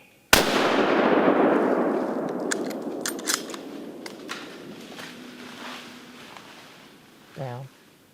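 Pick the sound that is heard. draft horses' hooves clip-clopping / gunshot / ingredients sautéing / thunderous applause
gunshot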